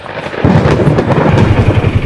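Deep thunder rumbles loudly through a storm out on a Texas ranch, a low rolling roar swelling after the first half second and churning on without a break, with no voices.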